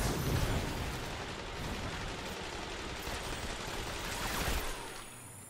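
Dense, sustained gunfire and blasts from the Destiny 2 shooter game on Xbox One, a continuous rumbling barrage with a sharper burst near the end and no talk over it.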